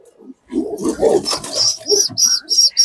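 A pigeon chick chirps nearby in a quick run of high, thin peeps that repeat steadily after some lower rustling.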